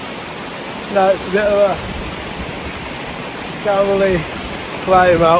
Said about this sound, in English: Check out the little waterfall, it's fantastic in summer.